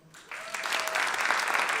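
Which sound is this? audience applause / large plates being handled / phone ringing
audience applause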